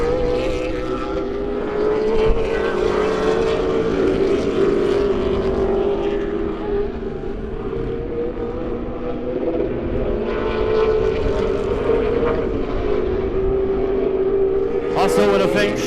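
Pro Late Model race cars at Lebanon I-44 Speedway, a dirt track, roar steadily through a heat race, engines droning loud and continuous with shifting pitch as the field circles, a commentator talking over the noise.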